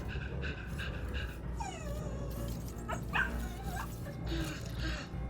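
An Exo robot dog from the Destiny 2 video game barks, yips and whimpers in short bursts, close and fairly loud over a low steady game hum.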